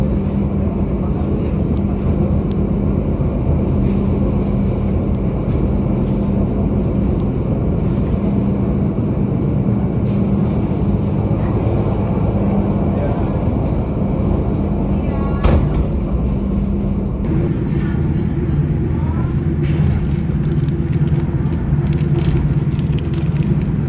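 The Argo Dwipangga train runs fast, a loud, constant rumbling roar with rattling and wind noise throughout, shifting slightly in tone partway through.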